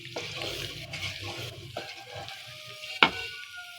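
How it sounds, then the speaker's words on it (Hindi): Carom seeds (ajwain) frying in mustard oil, giving a soft, steady sizzle with light stirring scrapes and one sharp clink near the end; no voices. "हमने जो अब इसमें अजवाइन डाली ना, उसको अब अच्छी तरह फ्राई करेंगे"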